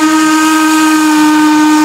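A toy steam train sounds its whistle in one steady, loud, sustained shrill tone with a breathy hiss, lasting the whole moment without a break.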